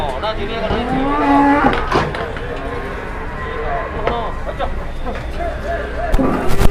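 Cattle bellow repeatedly while being loaded onto an overloaded livestock truck. Several loud, drawn-out moos rise over a steady background hubbub of people and activity, with a burst of noise near the end.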